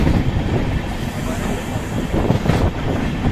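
An Amrit Bharat Express passenger train from Malda Town to Bengaluru rumbles steadily along the rails, a dense low roar with some wind buffeting, no one speaking.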